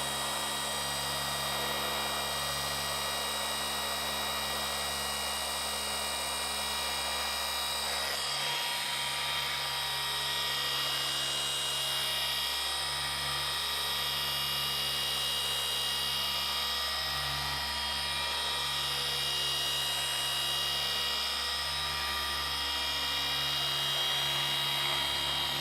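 Machine polisher running steadily on the Techno Violet paint of a BMW G80 M3 50 Jahre Edition, a continuous high whine with a low motor hum, close and constant throughout with no talk.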